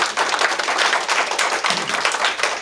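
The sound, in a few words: audience clapping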